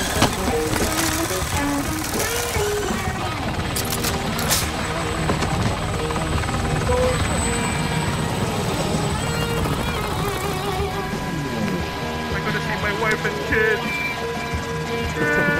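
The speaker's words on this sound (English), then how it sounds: "Helicopter training accident." A helicopter in Call of Duty Modern Warfare drones with a steady loud rotor and engine roar throughout, under game sounds and players talking.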